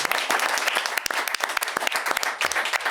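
A studio audience gives a dense, steady round of applause for a guest on a dental talk show, many hands clapping close and loud throughout with no break.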